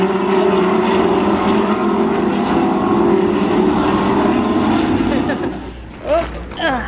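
Lamborghini race cars roar past on a track in a steady, loud engine drone, with a sharp drop-off near the end as the pack pulls away and voices break in.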